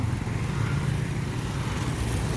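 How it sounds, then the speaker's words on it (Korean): Busy city street in Laos in the late afternoon, with motorcycles and cars streaming past as a steady, dense traffic rumble that never lets up, with no voices heard. "라오스 사람들은 이렇게 분주하게 모터사이클 타고 각자의 행선지를 향해서 세금 안 내는 차 지나갑니다"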